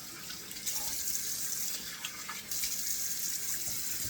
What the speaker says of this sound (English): Just turning on the cold water here in the sink.